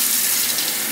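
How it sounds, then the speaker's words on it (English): Cold tap water runs in a steady loud gush over a chicken breast being rinsed in a kitchen sink, with no talking. "Rinse that chicken breast off real good, man."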